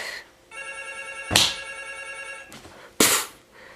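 A cell phone ringtone rings steadily for about two seconds, followed by two sharp, loud bangs from handling the phone.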